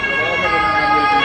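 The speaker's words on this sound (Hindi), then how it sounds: "ये पुलिस के सायरन की आवाज़ है भाई।" A police siren wails steadily and loudly near Frankfurt's central train station, with traffic noise mixed in under the continuous tone.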